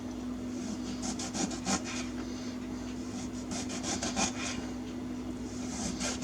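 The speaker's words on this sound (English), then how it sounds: "we're going to cut these at about 1/3 of an inch thick" Knife slicing limes on a cutting board for marmalade, producing a run of soft rasping cuts in irregular clusters, close by over a steady background hum.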